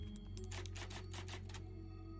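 Rapid mechanical typewriter key clacks from a typewriter in a Resident Evil game, a steady burst of close clicking strikes over a low ambient game hum.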